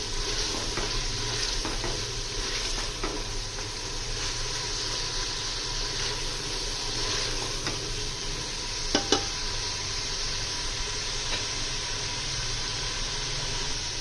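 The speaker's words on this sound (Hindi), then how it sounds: "अच्छी तरह हम इसकी भुनाई कर लेते हैं थोड़ी सी।" Beef karahi with softened tomatoes fries in a pan with a constant dense sizzle, broken by faint occasional scrapes of stirring and one brief clack near the end, close and without talk.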